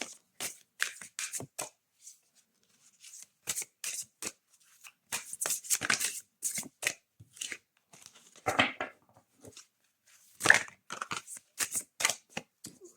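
A deck of oracle cards, Les êtres de la nature nous parlent, is shuffled by hand in soft, close bursts of riffling and flicking separated by brief pauses.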